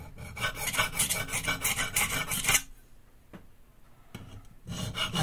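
Santoku knife blade rasping steadily across a sharpening surface to correct its bevel, a close scraping rub that pauses briefly midway and then resumes.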